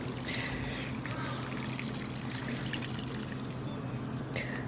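Water pours steadily into a dry herb pot outdoors, a close, continuous splashing trickle lasting several seconds, heard alone without talk.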